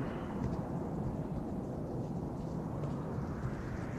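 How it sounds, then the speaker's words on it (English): A heavy thunderstorm roars as a steady, dense wash of rain and low rumbling, with no distinct thunder crack standing out and no voices. "Listen to that storm."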